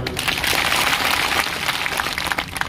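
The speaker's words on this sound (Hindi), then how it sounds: "इनके लिए ताली बजा सकते हो" Dense applause from a large crowd at a BJP political rally in Rajasthan, a steady wash of clapping filling the whole moment with no talk over it.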